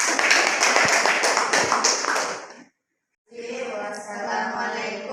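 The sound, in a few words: class applauding group 3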